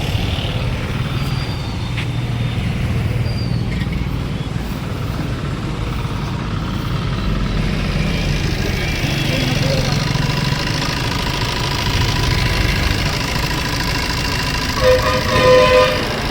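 A Maruti Suzuki Swift engine runs steadily just after a service with oil, air filter, oil filter and AC filter changes and a cleaned oxygen sensor, idling close by as a constant mechanical drone with a brief tone near the end.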